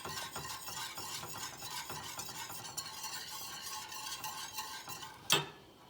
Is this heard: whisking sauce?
yes